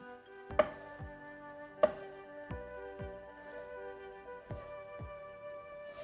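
A knife chops steadily through eggplant into strips on a cutting board, about half a dozen crisp cuts spaced roughly a second apart, over a soft steady tonal background.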